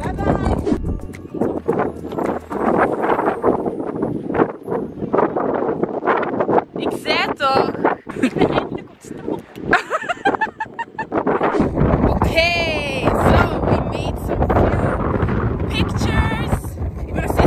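Strong wind at the beach in Knokke buffets the microphone with loud rumbling gusts while people talk over it outdoors, with bursts of noisier roaring in between.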